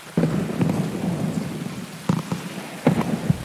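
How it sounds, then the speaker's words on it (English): Heavy rain pours steadily in Escape From Tarkov, with close, sharp cracks of thunder punctuating the dense downpour, and no talking. "I can't make it out in this rain."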